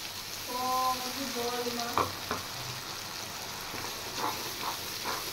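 Cashew, raisin and green chilli paste fries with toasted cumin and coriander powder in a pan, a steady close sizzle broken by a few sharp scrapes of a spatula; a short tonal beep sounds near the start.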